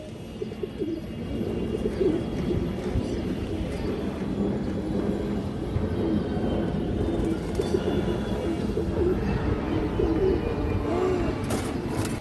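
Pigeons coo continuously at close range, a thick low rolling chorus that holds steady for the whole stretch with no one speaking.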